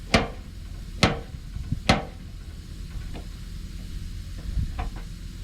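A dent puller pin is gently bumped on the body of a 2001 Ford Focus. Three sharp, close metallic knocks come about a second apart, then a few softer taps over a steady background hum.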